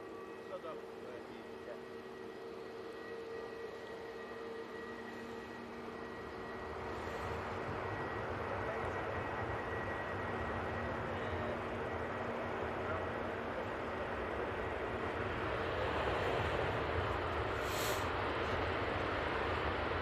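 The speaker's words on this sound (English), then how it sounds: "Kuwait A330neo about touchdown." A Kuwait Airways Airbus A330neo touches down and brakes, a broad engine and reverse-thrust roar building from a steady hum to a loud sustained rush, with someone talking over it.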